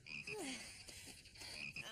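Frog croaking in repeated bursts over a dense, steady background, fairly close and clear, with no talking.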